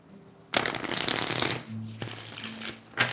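A deck of tarot cards is riffled and shuffled close up, a crisp flutter lasting about a second, followed by softer shuffles and taps.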